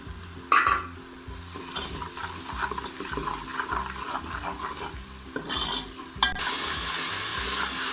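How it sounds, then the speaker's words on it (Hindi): Chillies, ginger and garlic fry with spices in a pan for daal, a steady close sizzle with stirring scrapes and a few louder hissing bursts, no talking. "ये मसाले को हम भून रहे हैं थोड़ी देर"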